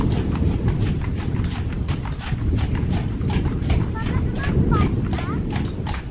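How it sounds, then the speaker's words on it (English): Hooves of two horses clip-clop at a walking pace near a Tudor house on a breezy day, a steady rhythmic clatter over strong wind rumble, with a few faint bird chirps higher up. "Oh, I can hear horses. I can hear a horse."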